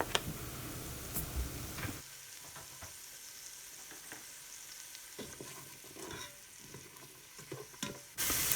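Finely chopped celery, two stalks, frying in a Ninja Foodi pot for keto beef stew, giving a steady soft sizzle with occasional stirring clicks and scrapes, close by and with no one talking.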